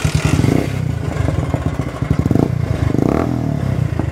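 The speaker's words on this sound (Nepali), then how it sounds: "यसको एक्जस्ट नोट सुन्नु है" A Pulsar NS200 motorcycle fitted with an Akrapovic exhaust idles and is revved up close, loud throbbing exhaust pulses with a couple of rising blips, no talk.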